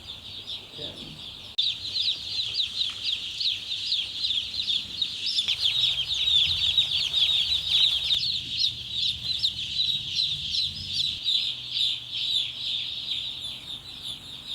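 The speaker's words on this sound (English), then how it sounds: "All right, so we officially unpacked all the chicks." A crowd of newly arrived baby chicks chirps constantly in a dense, high-pitched chorus that runs the whole time, with soft handling noises underneath.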